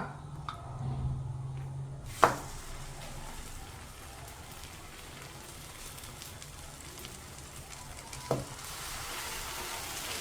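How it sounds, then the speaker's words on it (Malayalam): Egg-dipped food frying in butter makes a soft, even sizzle throughout, with two sharp utensil knocks against the pan, one early and one near the end. "ഞാനത് ഇതിൽ മുക്കിട്ട് പൊരിച്ചെടുക്കണുണ്ട് കേട്ടോ"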